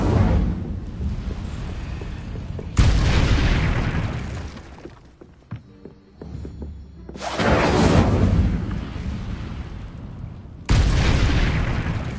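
Incendio fire spell cast in Hogwarts Legacy, loud whooshing bursts of flame that roar for several seconds each, three blasts separated by a quieter stretch of faint rattling effects.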